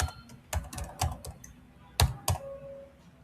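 Computer keyboard typing as customer details are entered into jewellery management software: irregular bursts of close, crisp keystrokes with short pauses between clusters.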